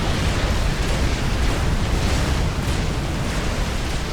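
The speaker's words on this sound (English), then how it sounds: "I think he took a hit from one of those tactical missiles," A tactical missile explosion in the real-time strategy game Supreme Commander: Forged Alliance, heard as a loud, sustained, noisy roaring blast that stays dense and steady across several seconds with no talk over it.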